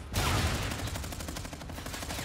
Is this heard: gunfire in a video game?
yes